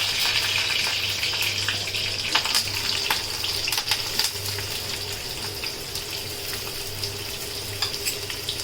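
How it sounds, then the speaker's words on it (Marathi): Onion and curry leaves frying in hot oil for a tempering make a continuous, fairly loud crackling sizzle with scattered sharp pops and a low intermittent hum underneath, and no talking. "आपण फोडणीसाठी कांदा आणि कढीपत्ता घेतला"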